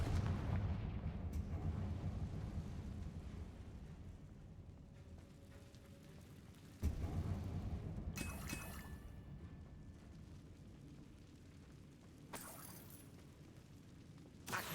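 An explosive Confringo spell blast in the video game Hogwarts Legacy, one sharp broadband burst rising out of a rumbling background, with other bright bursts and game effects following later.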